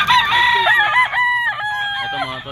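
A gray 'sweater' bull stag rooster with wing bands crows loudly and close at a Friday pet market in Bocaue, Bulacan, one long drawn-out call with clucking in the background.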